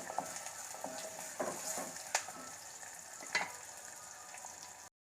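Onion pieces frying in hot oil in a pan for a Telugu spinach dal dish, a steady close sizzle with intermittent scraping clinks of a spoon stirring.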